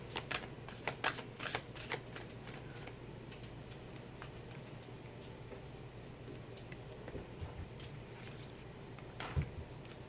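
A deck of tarot cards is shuffled close by, with repeated riffling and rustling bursts that are densest early on and then settle into steady softer handling over a faint fan-like hum.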